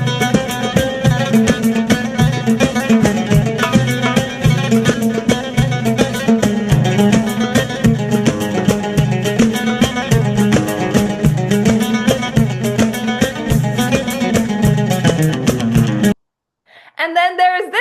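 Funky Arabic song in maqam Saba, a dense groovy recording with driving percussion and melody throughout, then a sudden cut to near silence before a brief return.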